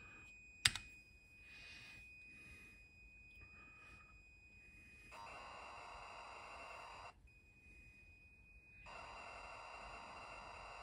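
Typing on a COMIX-35 computer keyboard, with a few faint key clicks under a steady electronic tone and hum, including one sharp click near the start.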